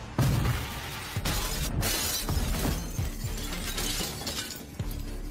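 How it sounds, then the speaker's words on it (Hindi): Hotel windows shattering all at once, a loud burst of breaking glass followed by rattling, clattering debris and mechanical creaking for several seconds, with no one speaking. "सभी खिड़कियों के टूटने के साथ निक ने तुरंत महसूस किया कि यह होटल फिर से सिकुड़ने लगा है।"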